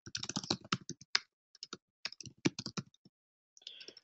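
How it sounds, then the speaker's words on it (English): Quick bursts of typing on a computer keyboard, close and crisp clicks in irregular runs with short pauses between, alone without talking. "What happened to my typing?"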